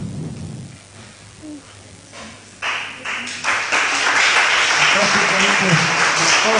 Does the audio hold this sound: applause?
yes